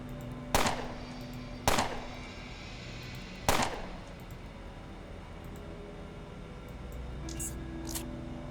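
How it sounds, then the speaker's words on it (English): Three loud, sharp gunshots ring out at irregular intervals in the Underrail video game, each a crisp broadband crack with a short tail, over a steady low hum of background ambience with no talking. "we'll just shoot them from here"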